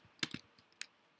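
A few quick keystrokes on a computer keyboard, crisp close clicks in a short irregular burst and then a single tap, quiet with no talking.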